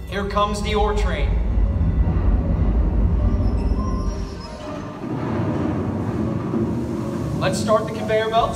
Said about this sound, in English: Comes the ore train.